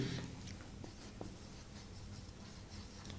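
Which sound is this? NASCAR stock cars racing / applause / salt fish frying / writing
writing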